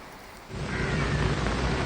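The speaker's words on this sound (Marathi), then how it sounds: "सकाळपासून पिंपरी चिंचवड शहरामध्ये पावसाची जोरदार बॅटिंग सुरू आहे" Heavy rain pours down in Pimpri-Chinchwad during a red-alert downpour, a loud dense roar that swells in after a quieter half second.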